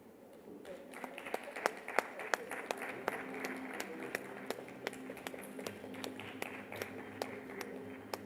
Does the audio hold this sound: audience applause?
yes